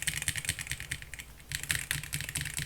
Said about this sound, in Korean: GMK67 키크론 같은 스위치, 같은 키캡입니다.